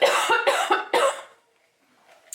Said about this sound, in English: it's just got me coughing like crazy